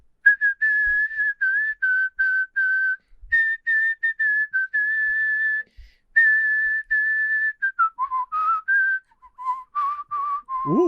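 A man whistles a tune, a clear, steady melody of held and quick notes lasting about eleven seconds, close and alone without talk, ending on a few wavering low notes.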